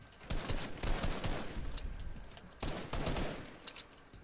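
Rapid bursts of automatic gunfire in the battle royale game Fortnite, loud and sustained with brief pauses between volleys, the shots crackling densely over one another.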